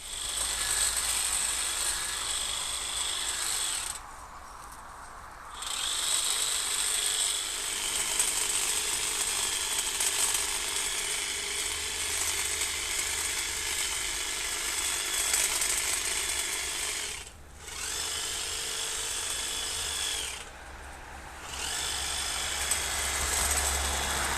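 A Stihl HLA 85 cordless telescopic hedge trimmer cuts along the top of a hedge, a steady high buzzing whine of reciprocating blades that drops out briefly three times, then resumes at close range.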